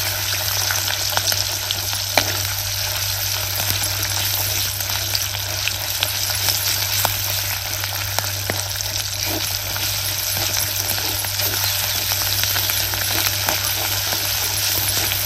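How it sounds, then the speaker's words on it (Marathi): Ground masala paste for Satara-style misal frying in a pan, a dense, steady sizzle and crackle lasting the whole time, close and loud with no talk. "मसाला आपल्याला चांगला परतून घ्यायचा आहे."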